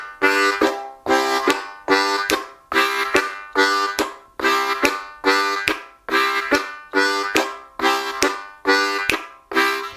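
A blues harmonica chugs a basic train rhythm, loud and close, with quick repeating breathy chord pulses in a steady driving pattern and no talking.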